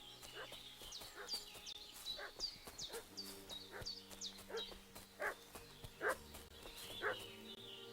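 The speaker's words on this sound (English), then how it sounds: "What's that dog making such a fuss about?" A village dog in the medieval game Kingdom Come: Deliverance 2 barks repeatedly at a distance, spaced single woofs roughly once a second over a bed of chirping birds or insects and soft ambient music.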